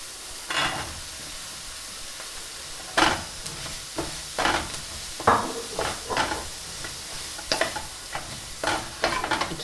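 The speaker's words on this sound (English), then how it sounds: "stir frying, moving around your pan." Vegetables, including carrot, stir-fry with a steady sizzle in a hot pan while a utensil scrapes and stirs in repeated bursts, with no talking.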